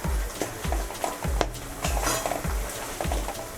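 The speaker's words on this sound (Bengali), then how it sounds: "সবগুলোকে একসাথে ভালো করে মিড ফ্লেমে রেখে মিক্স করব" A spoon repeatedly stirs a sizzling tomato and boiled pea mixture in ghee in a pan over medium flame, scraping in a steady rhythm close up with constant frying hiss and no voices.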